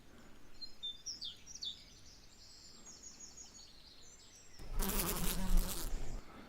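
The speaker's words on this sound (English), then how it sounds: "The iridescent greenbottle lands to take a break, before feeding on the flowers of the blackberry bush." A greenbottle fly buzzes around blackberry flowers outdoors, a faint wavering drone with soft bird chirps in the background, ending in a louder, closer burst of buzzing.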